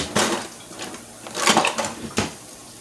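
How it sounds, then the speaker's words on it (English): Dry rice scooped out of a metal popcorn can rattles and scrapes in three main bursts, close and fairly loud, with small clinks between them. "I buy a big bag of rice and put it in this popcorn can. See? So I could just scoop it on out."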